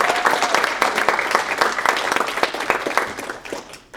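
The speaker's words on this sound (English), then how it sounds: "You can clap that up." A summit audience bursts into steady applause, dense overlapping clapping from a large crowd that fills the whole moment and tapers slightly at the end.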